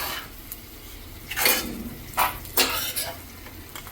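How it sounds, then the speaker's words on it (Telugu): Vadiyalu, sun-dried lentil fritters, frying in a pan: a soft sizzling hiss with a few scraping, clinking stirs of a utensil against the pan, close and fairly quiet. "అయితే వడియాలు మంచిగా ఫ్రై అయిపోయినాయి"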